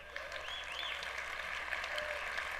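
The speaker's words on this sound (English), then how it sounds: "Please don't applaud" Audience applause at a media panel and interview session, a steady, even wash of clapping heard from a distance at low level, with no voices over it.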